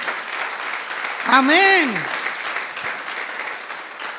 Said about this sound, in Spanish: ¿Por qué no le das un aplauso a Cristo?